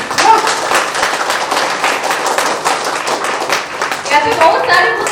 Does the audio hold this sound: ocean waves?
no